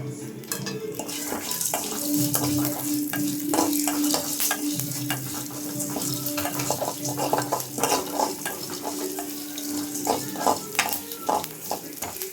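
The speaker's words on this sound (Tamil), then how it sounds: "நம்ம ட்ரையாக வறுக்கிறதுனால வறுத்துக்கலாம்." Crab gravy ingredients dry-fried in a pan, with steady sizzling under repeated scraping and clinking strokes of a metal spoon against the pan, the stirring growing sharper and more frequent toward the end.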